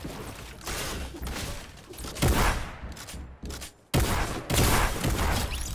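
Rapid bursts of Fortnite gunfire crackle in clusters, loud and close, with brief pauses between volleys.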